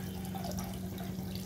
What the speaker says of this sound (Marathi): तुम्ही पण या प्रकारे पाणी टाकायचं आहे त्यात।